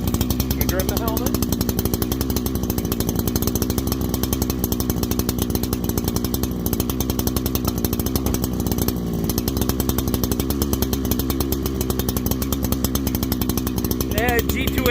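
A Holzfforma Farmertec G288 chainsaw bucks pine, its engine snarling loud and close without letup for the whole stretch.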